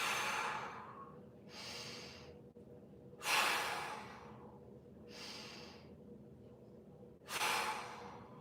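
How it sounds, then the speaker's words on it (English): Deep, audible breaths are drawn in and pushed out during a glute and hip mobility stretch for back pain, about three slow cycles close up with quiet pauses between. "3 big breaths."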